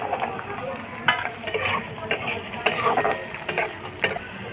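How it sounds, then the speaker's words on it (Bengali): Carrots and capsicum fry in a pan for mung dal and are stirred, with repeated scraping and clacking of a spatula over a low sizzle, close and rhythmic. "গাজর কিছুক্ষণ ভাজা হয়ে গেলে ওর মধ্যে দিয়ে দেবো ক্যাপসিকাম"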